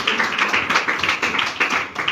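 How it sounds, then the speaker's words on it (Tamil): Clapping from a congregation at a church service in Tamil, a brisk, steady patter of many hands that stays fairly loud and continuous throughout, with no talking over it. "கைத்தட்டு."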